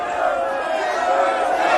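Angry crowd in a dramatized Bible reading of Acts 19 at Ephesus, shouting in a dense sustained roar of many voices that carries steadily and loudly from start to finish.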